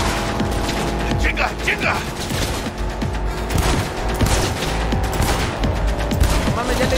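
Gunfire in the video game Cyberpunk crackles in rapid, dense bursts with mechanical clatter, loud and steady throughout, while a man swears over it.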